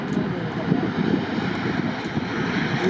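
An Emirates Boeing 777-300ER airliner landing at Hamburg Airport gives a loud, steady jet engine roar that holds throughout with a little wind noise and no clear speech.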